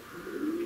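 Racing pigeons coo softly at a race finish loft after the sixth stage from Grudziądz, 427 km, a single short low coo rising briefly over quiet background.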